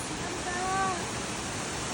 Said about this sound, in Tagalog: Ayan yung agos ng tubig.